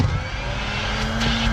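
A Hondavac engine-powered vacuum starts up and runs close by at full suction, giving a loud steady engine drone with a constant low hum and a broad rush of air, with no talk.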